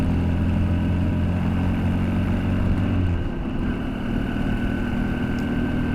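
A Honda CB125F motorcycle engine idles steadily up close, a low even putter that holds a constant pace with no revving for the whole stretch.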